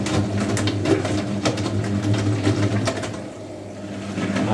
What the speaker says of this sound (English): And here's the spin rinse